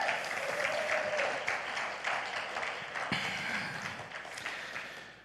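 Audience applause in a hall, a dense steady clapping from a large crowd that swells at the start and tapers gradually as it fades out.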